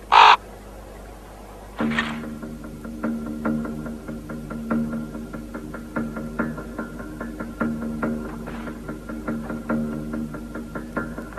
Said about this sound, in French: À part ces deux corbeaux, ils n'arrêtent pas de rôder autour de la grotte.